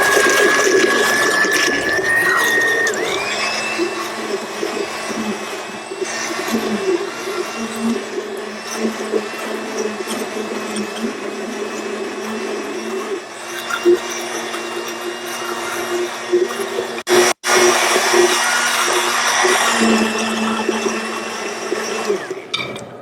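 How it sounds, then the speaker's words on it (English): Immersion blender whipping a white wine vinaigrette dressing, a steady close motor whir with churning liquid running nearly the whole time, one brief cut near the end. "we're going to go ahead with our immersion blender and just whip this up a little"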